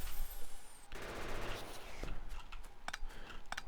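Automated turrets in Factorio firing in rapid bursts of sharp cracks, loud and close, with short gaps between volleys.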